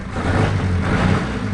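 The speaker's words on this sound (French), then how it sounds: "Voilà, le moteur est allumé." Car engine idles steadily just after being started during an alternator fault check, giving a continuous low rumble that is fairly loud and close, with no speech.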